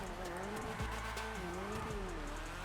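A Mazda RX-7 in a drifting video game, its engine note rising and falling in steady harmonic sweeps with squealing tyres, loud and close throughout.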